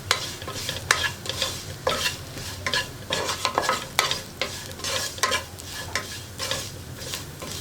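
Sambar powder fries in oil for an onion sambar, a sizzle broken by regular spoon scrapes against the pan every half second or so, close and without talk.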